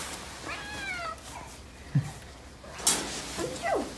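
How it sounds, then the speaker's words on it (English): A stray cat found out in a snowstorm meows in a drawn-out, wavering cry, followed a couple of seconds later by shorter mews and a sharp rustle nearby, all fairly close and mostly free of talk. "It's a cat."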